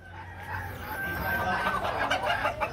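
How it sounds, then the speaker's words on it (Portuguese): Chickens and roosters at a rustic small-animal market in Teresina, Piauí, clucking and calling in a dense, close flock, with faint murmur in the background. "Olha, essa ala aqui é só galinha e galo."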